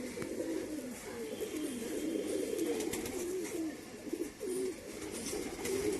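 Pigeons in a loft coo in repeated low, throaty rolling calls, several birds overlapping at close range over a steady background hiss.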